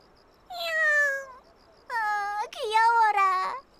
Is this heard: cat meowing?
yes